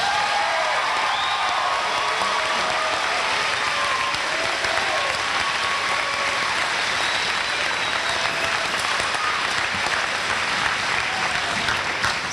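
Sustained audience applause at a high school commencement for graduating seniors, dense and even clapping from a large crowd filling the hall without pause.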